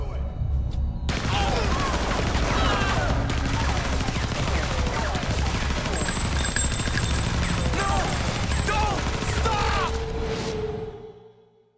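Sustained gunfire rattles through a Resident Evil 0 HD scene as rapid repeated shots pound steadily over a low rumble, with voices speaking underneath. It runs loud for about ten seconds, then fades out.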